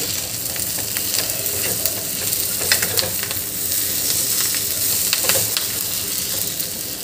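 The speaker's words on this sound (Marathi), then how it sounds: "आता इथे आपल्याला गॅस मीडियम टू हाय या फ्लेमवर ठेवायची आहे आणि परतवत जायचं याला छान." Chopped giloy leaves sautéing in a pan over a medium-high gas flame, a steady close sizzle with scraping stirring strokes and occasional crackles, with no talking.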